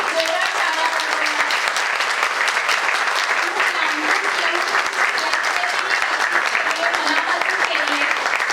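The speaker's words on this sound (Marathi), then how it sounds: "त्या सगळ्या जणींसाठी खूप खूप जोरात टाळ्या वाजवा." An audience at a Mangalagaur women's festival program applauding the performers, loud sustained clapping from many hands with voices faintly mixed under it throughout.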